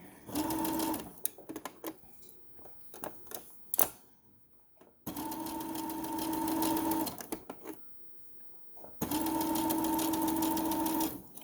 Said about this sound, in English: we're going to be stitching over quite a few heavy layers of this fabric